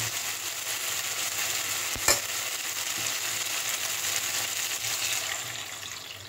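Water poured into frying masala in a pan for a Bengali fish curry with spring onion greens, a broad steady hiss and bubbling sizzle with one brief clank near the start, close and fairly loud, no voices.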